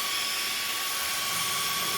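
A small version-one fan for an RC motor or ESC blows a lot of air, a steady loud broadband whoosh with a high whine running unbroken and close throughout.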